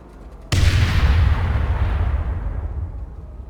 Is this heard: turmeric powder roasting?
no